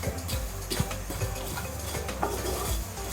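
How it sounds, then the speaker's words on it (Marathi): Sesame seeds roast in a hot pan, stirred with a utensil that scrapes and taps against the metal in an irregular, close rhythm over a faint sizzle, with no talking. "पॅन गरम झाल्यानंतर सर्वात आधी तीळ भाजून घेऊ."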